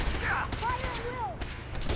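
Tesla rifle fire in Fallout 4, a short burst of crackling electric shots mixed with game sounds and a robotic voice speaking.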